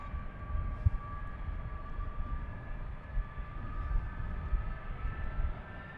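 Jet engines on an Airbus A330 spool up for takeoff on Amsterdam Schiphol's runway 36L, heard from a distance as a faint rising whine over a low, rumbling roar.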